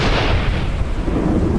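Deep thunder rumbling from a storm, a continuous low roar with no clear cracks, steady and loud throughout.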